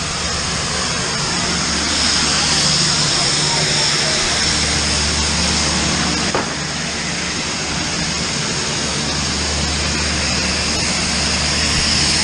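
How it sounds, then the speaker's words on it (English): A small passenger plane at Lukla airport in Nepal hums with a steady, loud engine drone throughout, heard from inside or nearby while people chatter over it. "Getting on the Lukla plane."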